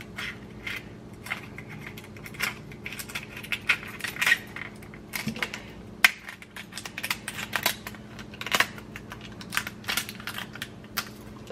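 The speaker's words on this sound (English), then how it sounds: "So take your kitchen scissors." Kitchen scissors snip through a seafood shell in a series of sharp, irregular clicks and crunches, close and fairly quiet, with faint kitchen background between cuts.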